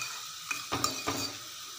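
Constant crackling sizzle of curry leaves frying in hot oil, with a few sharp metallic clinks of a spoon stirring in the pan.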